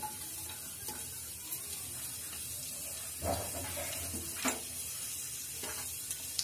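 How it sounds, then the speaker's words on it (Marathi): Cumin seeds and garlic sizzle in hot oil in a pan for a stuffed brinjal dish, a steady close frying hiss with a few louder stirring bursts and no talking. "तेल गरम झाल्यावर आपल्याला त्यात जिरे टाकायचे, लसूण"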